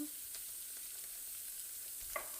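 Coriander chutney sizzles gently in a covered pan, a faint, steady frying hiss with a couple of soft clinks.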